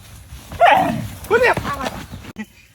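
A nearby dog gives a couple of short barks and whimpering yips under close human talk, with chickens stated to be around.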